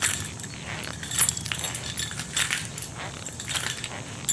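A bunch of keys on a wearable key holder jangles and clinks continuously, loud and close, with bright metallic rattles coming in bursts as the wearer moves.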